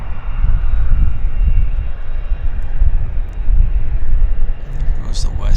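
A WestJet airliner taking off at Vancouver International Airport, its engines producing a loud, sustained low roar heard from a distance outdoors, with a voice speaking over the noise.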